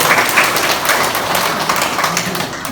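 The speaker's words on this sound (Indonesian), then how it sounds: "Kita berikan aplaus dulu untuk Bapak." Steady, dense applause from a ceremony audience, honoring a man on an Indonesian regional TV broadcast in Papua Barat, loud and continuous throughout and fading slightly at the end.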